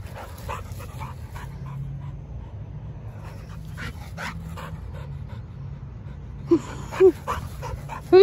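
Dog panting close by with wet breathy huffs, then a few short whimpers and yips near the end, with no talking.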